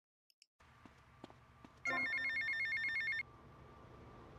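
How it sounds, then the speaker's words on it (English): A phone rings in GTA Vice City. After a few faint game sounds, one loud, steady, trilling electronic ring plays for about a second and a half over low background ambience. "once you're running around, you're going to get a phone call from someone"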